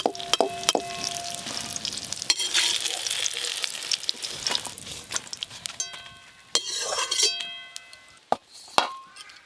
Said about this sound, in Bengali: এই দেখুন ডিম বেগুন একসঙ্গে ভাজা হয়ে গেল